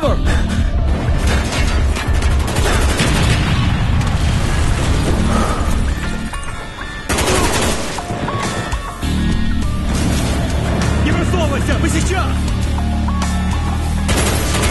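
Loud Call of Duty Black Ops gunfire rattles almost without pause, mixed with booming explosions, while voices shout over the battle.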